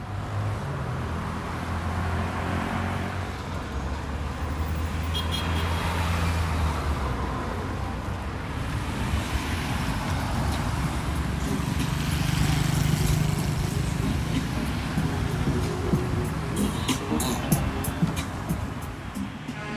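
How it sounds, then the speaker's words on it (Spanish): Busy street traffic in Georgetown, Guyana, near St. George's wooden cathedral: a steady rumble of passing cars and motorbikes with engine drones rising and fading, close and continuous, with no talk. "Qué locura el tráfico acá de Georgetown."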